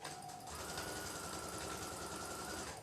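Sewing machine stitching one side of patchwork fabric pieces, a steady continuous motor whir with rapid needle clatter running throughout, close and loud, preceded by a brief lower hum at the start.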